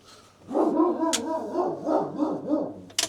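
A pet dog lets out a run of close, wavering barks and howling yowls that rise and fall in pitch, with a couple of sharp clicks or knocks cutting in.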